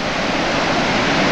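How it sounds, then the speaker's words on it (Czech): Powerful waterfall in Norway's Husedalen valley roaring as a steady, loud, broadband rush of falling water plunging into a rock basin, close and continuous with no other sounds. "A tenhle vodopád je zatím nejmohutnější a nejkrásnější,"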